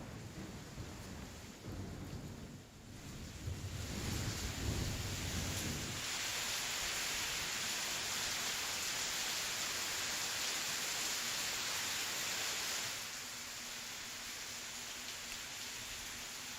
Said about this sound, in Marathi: धाराशिव जिल्ह्यामध्ये काल रात्रीपासूनच मुसळधार पाऊस पडायला सुरुवात झालेली आहे।